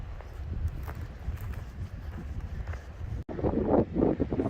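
Steady wind on an Arizona Trail hike buffets the microphone with a low rumble, and stronger gusts roar in near the end.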